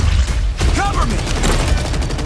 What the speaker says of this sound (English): We're taking fire from both sides!